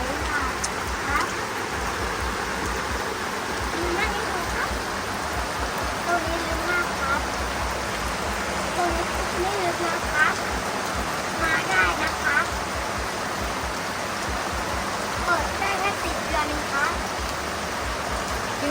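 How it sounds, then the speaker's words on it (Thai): Water rushes and splashes continuously, a broad steady wash of a stream beside a glamping resort in Kaeng Khoi, Saraburi, Thailand, with voices faintly mixed in. "น้ำไหล"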